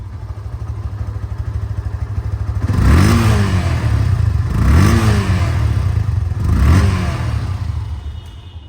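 A used Yamaha FZ-2 motorcycle idles nearby with a steady low rumble, broken by three evenly spaced throttle revs that swell and drop back to idle.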